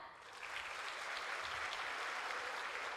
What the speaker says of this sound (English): when I say do not clap, clap the loudest